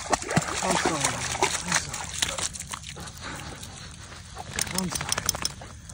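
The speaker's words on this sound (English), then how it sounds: "I'm dragging the deer out of the water." A hunter drags a freshly bow-killed Texas whitetail buck carcass out of water, with sloshing and splashing up close and people talking over it.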